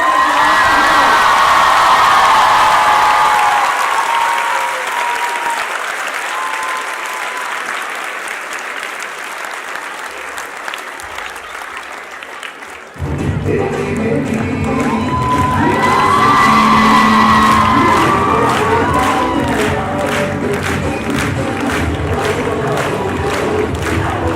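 Large conference crowd at a social media conclave clapping hard and cheering, with shouted slogan chants and whoops rising over the applause; a brief lull partway through before the noise surges back even louder.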